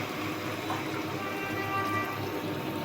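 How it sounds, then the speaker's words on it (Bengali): Water is poured into fried spice masala in a pan while cooking a singhi fish curry, making a soft, steady rushing pour that lasts a few seconds without any talk. "কষানো মশলার মধ্যে পানি দিয়ে দেবো"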